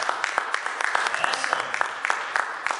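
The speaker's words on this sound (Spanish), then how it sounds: "Un aplauso a Jesucristo." A church congregation at Granero de Dios claps in praise, sharp individual handclaps popping through a busy wash of applause and murmuring voices.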